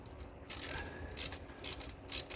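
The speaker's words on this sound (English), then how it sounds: "And tightening the bolts down one at a time." A hand ratchet tightens the valve cover bolts on a 2001 Honda CR-V during a gasket replacement, making faint, close clicking bursts in a slow rhythm, with no talk.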